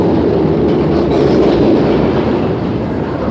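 Loud, steady rumble inside a moving train, with a continuous low roar and faint rhythmic clatter of the wheels on the track.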